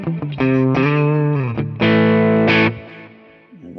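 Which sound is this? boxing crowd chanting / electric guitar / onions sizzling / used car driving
electric guitar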